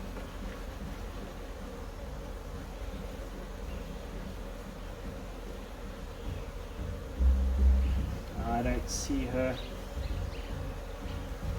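Honeybees drone in a dense, steady buzz from an open hive box during a queen inspection with robbing going on, a close continuous hum with a brief spoken remark near the end.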